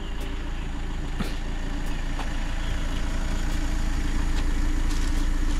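A large shuttle van idles at a group departure point on a Miaoli day tour, its steady low engine rumble constant and close throughout, with faint clicks and rattles on top and no talking.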